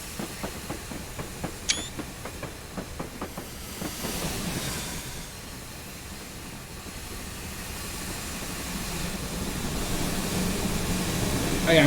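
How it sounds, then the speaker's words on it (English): A GWR 28xx steam locomotive passing on the Barry Railway, with a short whistle and rhythmic clicking early on, then a steady rushing hiss and rumble that swells louder toward the end. "just sitting on bridges watching this train going past"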